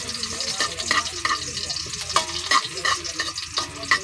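Garlic sizzles in a hot pan for a Filipino sautéed pechay dish, with loud, close frying and a steady run of metal ladle scrapes and taps stirring it, and no one speaking.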